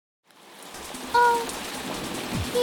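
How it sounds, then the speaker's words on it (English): Steady rainfall fading in, then a continuous dense hiss of drops hitting a surface, fairly loud and even with a few brighter splashes, no voices. "Do you want to see your 3D model wet in the rain?"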